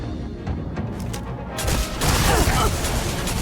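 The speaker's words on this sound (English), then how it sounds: "Giant explosion for no reason." A sudden giant explosion in the video game Starfield, a loud broadband blast that swells and lingers as a roaring rumble over ongoing game ambience, with no talk over it.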